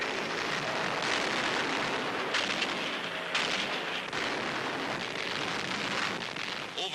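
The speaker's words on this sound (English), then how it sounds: "the bombardiers lay their deadly eggs" Bombs dropped from aircraft explode on a Nazi chemical plant making munitions in wartime, a dense continuous roar of blasts and rumbling debris with sharper bursts breaking through, loud and unbroken throughout.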